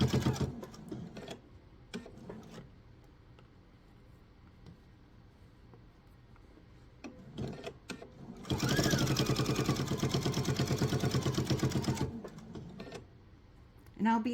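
A domestic sewing machine stitches binding onto a laptop sleeve in a steady rapid whir lasting a few seconds, set between stretches of quiet talk and small handling clicks.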